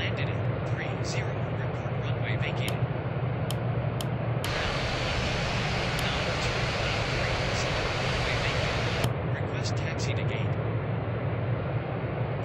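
An Airbus A330 taxis to the gate in Real Flight Simulator, a steady loud engine drone and broadband rush running throughout with no talk, with a brighter hiss layered on for several seconds mid-clip.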